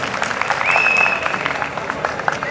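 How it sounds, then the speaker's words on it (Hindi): Audience applause at a Hindi poetry and comedy stage performance, continuous dense clapping from a nearby crowd lasting the whole moment. "एक बार बजाइए तालियां"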